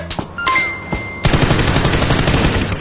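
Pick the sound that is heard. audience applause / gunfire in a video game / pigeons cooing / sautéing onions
gunfire in a video game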